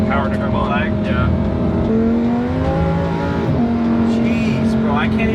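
An 800 HP twin-turbo rear-wheel-drive Lamborghini Huracan accelerates hard: a loud, sustained engine drone rises in pitch through the gears from inside the car, with voices talking over it.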